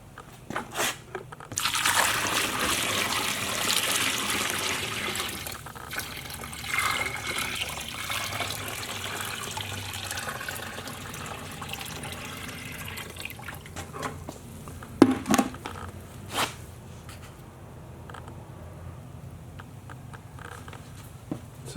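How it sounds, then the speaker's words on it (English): Water pours onto a shower floor coated with RedGard SpeedCoat waterproofing for a flood test, a splashing rush that is strongest early and then settles into softer trickling with a few knocks. "So far on initial pouring of the water, looks good."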